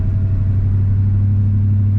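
A 1989 Chevrolet C1500 Silverado GMT400 work truck, likely with a 350 engine and a slight valve tick, drives along with a steady, loud, low engine hum and road rumble, without speech.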